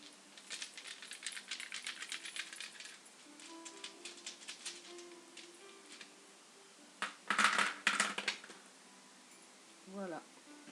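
Game dice rattle and clatter across a hard surface in a quick burst of small clicks, fading into scattered taps, followed by a second louder rattling roll and a brief squeak near the end.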